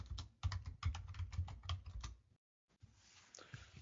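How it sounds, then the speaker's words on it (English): The ifconfig command being typed on a computer keyboard in a Linux terminal, a quick run of close, soft key clicks that stops abruptly, followed by a short silence and faint room noise. "Let's go ahead and type ifconfig."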